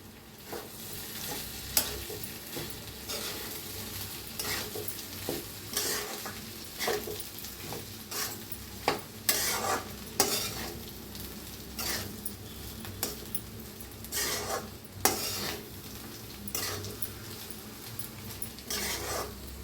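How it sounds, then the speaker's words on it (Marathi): A spoon repeatedly scrapes and stirs a rice mixture with stuffed chillies, sugar and coriander in a sizzling pan, with rhythmic clanks against the metal over continuous frying hiss, close and fairly loud with no talking. "थोडीशी साखर, कोथिंबीर. आता मिक्स करूया."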